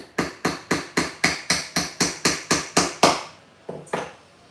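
A small craft hammer drives a nail with about a dozen sharp, evenly spaced strikes close by, then a short pause and two final taps.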